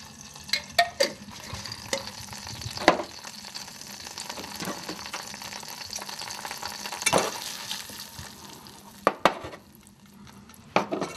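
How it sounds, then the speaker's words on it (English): Peanuts cook in a pan, a soft sizzle broken by irregular scraping and clinks as they are stirred, with several sharper knocks spread through the stretch. "This is my pan to cook the peanut."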